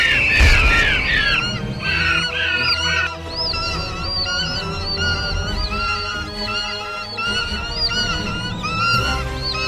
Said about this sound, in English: Deafening screeches ceaselessly lacerate your eardrums as poorly rendered explosive CGI birds dive-bomb the city.